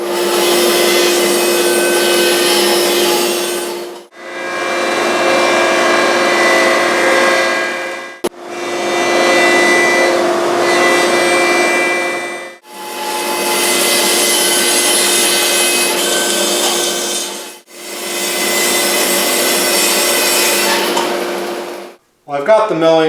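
A bandsaw rips 3 to 3.5 inches off the sides of wooden boards in four long, loud, steady cutting passes separated by short pauses, ending with a brief clatter.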